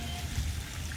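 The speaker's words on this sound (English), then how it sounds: "I'm just pouring this on" Mixed lawn-treatment fluid poured onto grass, a brief, steady trickling splash heard up close and alone.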